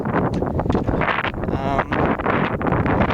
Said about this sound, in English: I can feel the wind picking up. You guys can probably hear it.